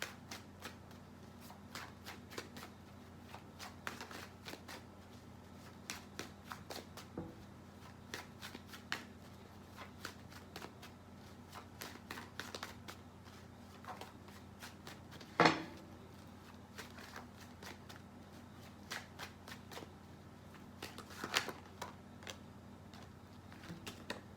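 Tarot cards are shuffled steadily for a reading, a quiet, close run of soft riffling clicks and flicks repeating throughout with a few sharper taps, no talking.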